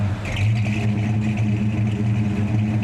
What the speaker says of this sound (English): I just asked him if he wouldn't mind firing up so I can hear that big Hemi rumble